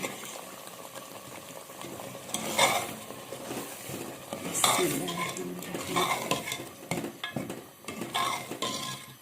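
Chickpeas tumbling into a pot of thickening gravy for Lahori chana, followed by repeated stirring and scraping with a utensil, irregular knocks and scrapes over a low simmer.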